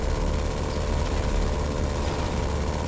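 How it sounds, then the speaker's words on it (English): The B11 Strikeforce jet in Grand Theft Auto 5 idles with its throttle off during a dive, a steady low droning engine hum with a faint whine, constant and close throughout. "You can hear the engine idling."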